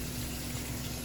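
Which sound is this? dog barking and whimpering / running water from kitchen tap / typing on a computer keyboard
running water from kitchen tap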